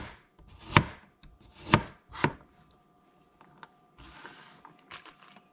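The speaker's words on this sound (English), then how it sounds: "I've got some radishes here cleaned up that I'm going to go ahead and slice." A knife slices cleaned radishes on a cutting board: three sharp, loud chops in quick succession, then a few lighter taps and soft scraping nearby, with no talking.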